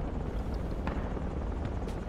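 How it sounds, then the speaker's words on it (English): A large transport helicopter in Project Reality, nicknamed the cow, drones as a steady low rumble throughout, with faint distant gunfire cracks over it. "Cow is our large transport chopper."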